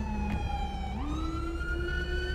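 Police siren wails in Grand Theft Auto 5, a loud tonal sweep that dips, then climbs and holds a high pitch, over a low engine rumble with no speech.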